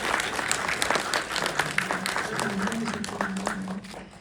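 A theater audience applauds for an actress's birthday at a film talk event in a cinema, sustained crowd clapping with scattered sharp claps, while a voice talks underneath and the clapping fades out at the end.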